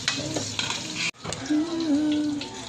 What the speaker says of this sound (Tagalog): prituhin natin muna ang ating carrots at patatas